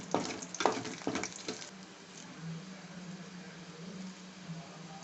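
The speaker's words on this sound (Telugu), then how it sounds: "వెల్లుల్లి కొంచెం బ్రౌన్ కలర్ వచ్చే వరకు వేయించుకుందాం అండి." Garlic cloves frying in oil for a gongura chutney tempering, with a few crackling pops early on that settle into a soft, low, steady sizzle.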